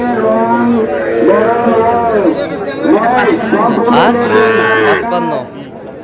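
Young Sahiwal bull calves on a farm in Gopalganj moo repeatedly and loudly, their calls overlapping, while people chatter nearby.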